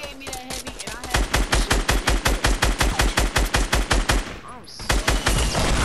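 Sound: gunfire in the video game Fortnite

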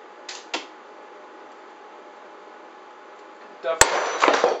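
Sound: Forespar Marelon valve breaking under pressure test

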